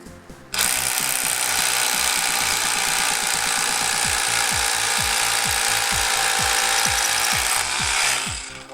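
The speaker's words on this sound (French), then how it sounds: "on va faire le perçage avec perfo, et on va tester sur un socle en béton" AEG BBH18 cordless rotary hammer drilling a 12 mm bit into a solid concrete base, a loud continuous hammering rattle with a whining motor that starts abruptly and runs for about seven seconds before stopping, close and alone.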